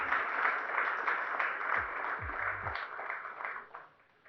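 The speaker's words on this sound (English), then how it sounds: "A big round of applause, please, for these champions." Steady applause from a crowd, a dense even patter of clapping that holds for several seconds and then fades toward the end.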